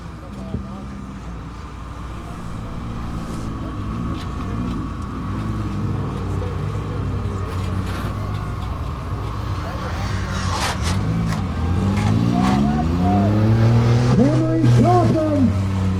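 A demolition derby car runs laps through the S-curves of a winter ice track in an arena, its engine rising and falling as it accelerates, under an announcer's commentary and a swelling crowd-like wash.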